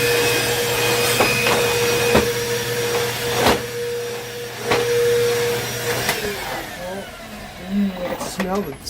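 Salvaged Bissell Powerforce bagless vacuum cleaner running continuously with a steady motor drone and tonal whine, a few knocks and clunks along the way, and a voice briefly near the end.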